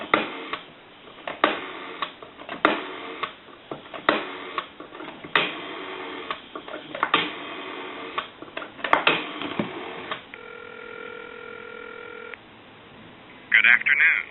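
A Northern Electric Galion rotary desk telephone being dialed, with repeated bursts of ticking dial pulses and the whir of the dial returning, followed by steady tones on the line and a short chirp near the end.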